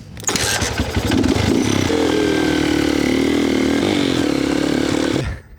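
An old motorbike engine runs loud and close, starting with rough sputters before settling into a steady, buzzing drone that holds for several seconds and then cuts off.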